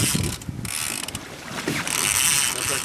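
A fishing reel pays out line while an angler fights a large halibut from a boat, giving a rapid ratcheting clicking drag that surges and eases over a few seconds amid wind and water noise.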